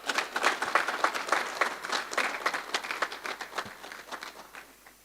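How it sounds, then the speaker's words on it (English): Audience at a media awards ceremony claps for the honorees, a lively round of many hands that starts strong and gradually thins and fades toward the end. "Ladies and gentlemen, a round of applause,"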